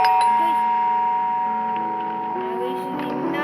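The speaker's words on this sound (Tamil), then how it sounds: "யார் கைஸ் காலிங் பெல் அடிக்கிறது?" A doorbell rings in the horror video game The Baby In Yellow, a bright chiming tone that sustains and slowly fades over a steady tonal background.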